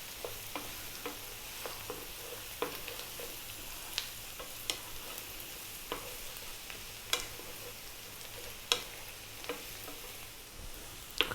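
Fish stir-fries with garlic and ginger over high heat in a continuous sizzle, with sharp clinks and scrapes as the pan contents are kept moving.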